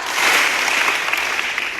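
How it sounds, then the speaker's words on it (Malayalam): An audience at a public gathering claps together, producing a steady, loud wash of applause with a few sharper hand claps standing out near the end. "ആര് കൈയടിക്കുന്നത് റെഡിയാണോ"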